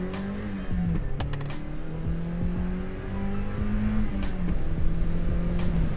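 A Mazda NB2 Miata's street exhaust rumbles as it drives, engine note rising and falling through gear changes, close and steady.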